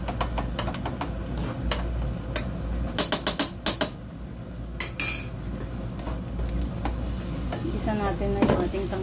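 Shrimp sauce stir-fried in a pan sizzles steadily while a utensil scrapes and clinks against the metal in quick bursts of stirring, close by with no talking.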